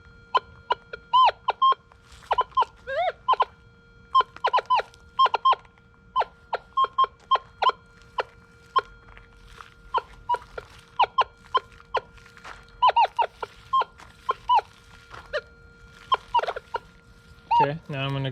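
Minelab Equinox 800 metal detector in multi-gold mode 2 testing gold nuggets and loose gold, giving a busy run of short, high chirping tones in quick irregular bursts, loud and close, with no talking.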